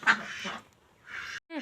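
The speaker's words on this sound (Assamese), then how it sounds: "হাঁহজনীয়ে ইমান চিঞৰিছে" A female domestic duck calling out at feeding time: a few loud, raspy quack bursts close by, separated by short quiet gaps.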